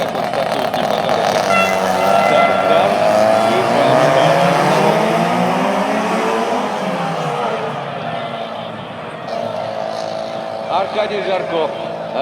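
Rally race cars on an ice track, including a Ford Fiesta, roar loudly with engines revving and tires skidding across the ice, under continuous commentary.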